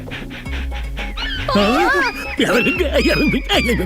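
A man imitates a dog, with barks, yips and whimpering whines in quick bursts, loud and close over a low background drone.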